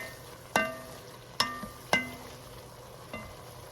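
A pound and a half of hamburger fries in a pan with onion, a steady low sizzle under three bright metallic clinks of a utensil against the pan and a fainter fourth near the end.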